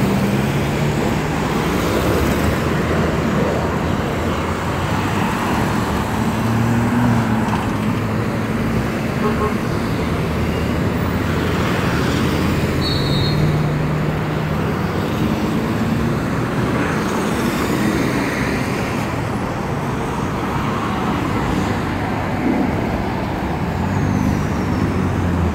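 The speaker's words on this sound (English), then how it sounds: "So many buses in just so little time" MTA buses and other traffic passing on 145th Street at 6th Avenue in New York: a steady, loud roar of engines and tires from nearby vehicles, with rising and falling engine tones and a brief brake hiss.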